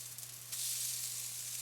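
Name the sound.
okonomiyaki with pork belly frying on the griddle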